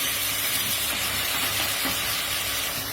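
Ginger and garlic paste fries with meat in a pot, giving a steady, dense sizzle and hiss with soft stirring scrapes. The sound is continuous and close, with no voices.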